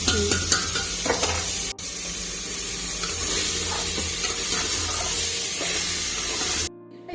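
A spoon scrapes and stirs curry in a sizzling pan, with irregular clinks and a steady frying hiss close by, then a brief quiet gap.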